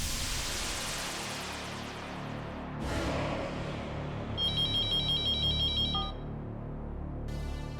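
A telephone rings in a dubbed television drama scene, with repeated electronic ringtone bursts in the second half over a steady hiss of background noise and no talking.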